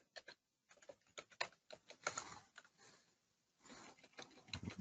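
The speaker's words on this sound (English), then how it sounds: "forgive my typing here." Computer keyboard typing during a software setup: irregular bursts of quick key clicks with short pauses between them, fairly faint and close.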